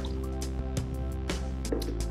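Milky starch-laden rinse water from washed rice poured away during egg pulao prep, giving soft drips and liquid splashes over a constant low hum.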